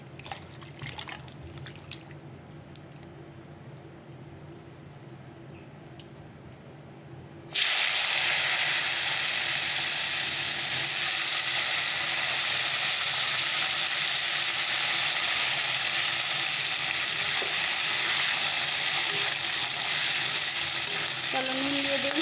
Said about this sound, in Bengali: একটু জিরে আর একটু শুকনো লঙ্কা ফোড়নে দিয়ে দিলাম, সবজিটা ছেড়ে দেবো এবার।